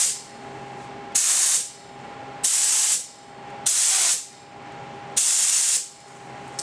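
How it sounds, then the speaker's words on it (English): Four bursts of a spray gun hissing out a fine mist of clear coat onto a test board, each lasting about a second with short pauses between, close and fairly loud over a faint steady tone. "my gun's loaded up with the clear coat. My test board here, I'm just going to make sure that my spray pattern is still good."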